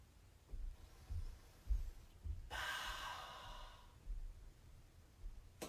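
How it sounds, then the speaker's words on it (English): A person takes a few slow, deep breaths while holding a yoga pose: soft nasal inhales followed by one long audible exhale, close and quiet, with no talking. "We're going to do a few breaths right here."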